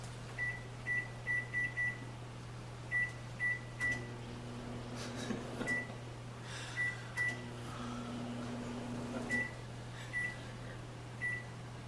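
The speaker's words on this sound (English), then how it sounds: "timer set for 10 minutes after I turned on my microwave." A microwave oven hums steadily while a series of short electronic beeps sound in quick clusters, with a few clicks and door clunks in between.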